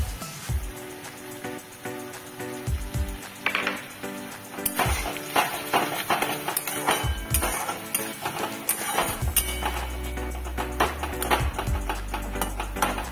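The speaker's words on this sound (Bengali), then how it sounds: "এবার ঢাকাটাকে খুলে নেড়ে দেবো।" A lid clinks off a pot and a spoon stirs softening onions for a spicy rui fish curry. Metal taps and scrapes ring out over a constant frying sizzle.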